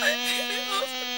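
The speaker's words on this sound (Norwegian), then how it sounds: "Det er bare mygg." Mosquito buzzing near a tent on a summer night, a thin steady whine that wavers in pitch and stays close and clear for about a second, with no talk over it.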